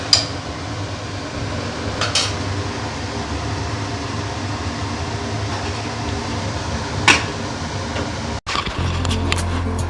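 Mutton curry being stirred in a pot, with loud, continuous scraping and clattering of a utensil against metal over a steady hum, then a brief cut before the scraping resumes.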